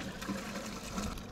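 Caravan waste tank emptying into a dump point, a steady rushing gurgle of liquid pouring through a hose, close and continuous with no talking.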